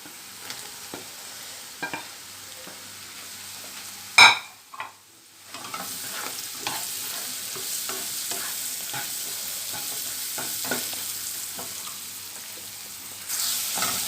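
Capsicum and curry leaves go into a pan of frying paneer masala, with a steady close sizzle, one sharp burst as they drop in, and scraping stirs through to the end.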